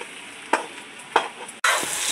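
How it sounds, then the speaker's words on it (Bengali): Washed potatoes dropping into a pot of frying khichuri with rice and lentils: a couple of soft stirring knocks, then a sudden loud burst of sizzling as they hit the hot oil, close by. "ধুয়ে রাখা আলুগুলো দিয়ে দিচ্ছি।"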